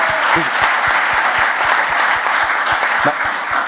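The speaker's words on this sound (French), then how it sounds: "applaudissons notre ami" Steady applause from an audience, dense and continuous, with a faint rhythmic thumping underneath throughout.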